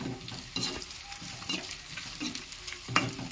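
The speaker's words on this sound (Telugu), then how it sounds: "ఇక్కడ గుడ్లు కూడా వేసేసుకున్నామండి ఒకసారి కలిపి" Eggs frying in a pan and being stirred, with soft sizzling under a few scraping strokes of a utensil and a sharper clink near the end.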